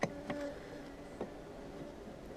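Honey bees buzzing inside a top bar hive that holds only a few bees: a faint, steady hum close by, with a few brief louder passes.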